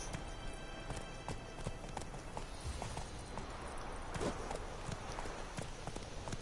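Rhythmic hoofbeats of a galloping horse in The Witcher 3 video game thud steadily over a dense, continuous background wash.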